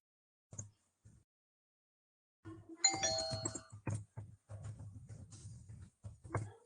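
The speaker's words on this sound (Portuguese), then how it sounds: "tem gente chegando aqui na nossa campainha" A doorbell rings in a home during a recorded online course lesson, sounding in a couple of short separate bursts followed by a busier stretch of repeated chimes and clatter, fairly close and clear with no talk over it.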